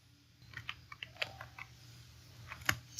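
A computer keyboard typing a formula into an Excel spreadsheet: soft, quick key clicks in an uneven run over a low steady background hum, close but fairly quiet.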